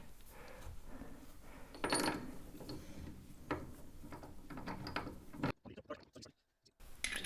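A socket wrench on an extension spins brake bolts into a Wilwood brake upgrade, giving soft ratcheting clicks and metallic ticks close by, with a brief near-silent gap toward the end.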